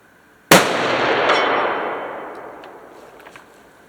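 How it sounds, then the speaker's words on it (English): A single loud, sharp shot from a Colt Ultra Light rifle chambered in 7mm Remington Magnum cracks out, then a long rolling echo fades away over about three seconds. "A couple of shots with the 7 mag"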